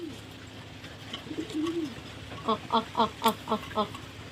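A domestic pigeon coos close by: a few soft, low warbles, then a clear run of six evenly spaced, throaty coos at the end over a quiet background.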